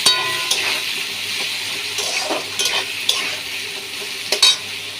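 Onions fry in oil in a pan for chicken kassa with aloo, a continuous soft sizzle with occasional sharp scrapes and clinks of a spatula against the pan, no voices.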